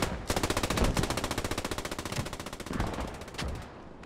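Sustained machine-gun fire in the WWII shooter Post Scriptum during a realism event battle, a rapid steady stream of loud shots lasting several seconds with brief pauses and slight variation in intensity, no talking.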